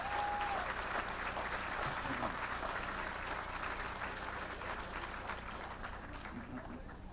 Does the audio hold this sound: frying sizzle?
no